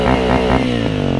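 A BMW G 650 X motorcycle engine revving with a dense buzzing drone, held close and loud for a second or so, its rev limiter cutting in early.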